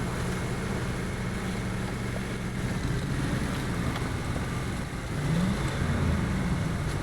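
An International Scout 800 truck churns through deep mud in SnowRunner, its engine holding a steady, loud, droning growl that swells slightly near the end, with no talking.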